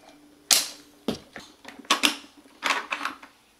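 A Fisher-Price Rescue Heroes Fire Command Center toy's shooting mechanism fires a quick series of sharp plastic clicks and snaps, close up and fairly quiet, in an irregular burst of about eight hits.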